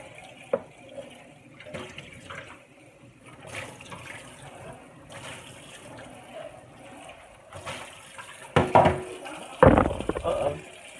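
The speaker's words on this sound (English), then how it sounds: "Let me wash my hands." A kitchen sink tap runs while hands are washed, with low splashing and clattering and louder gushes of water near the end; people talk faintly in the background.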